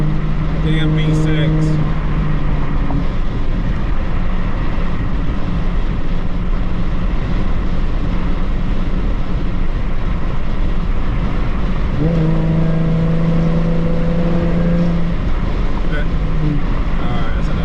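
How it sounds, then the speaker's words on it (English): A Ford Mustang V6 engine idles steadily with a constant low drone, rising in brief revs near the start and again around twelve seconds, recorded close up with a voice over it. "Sound good for a damn V6"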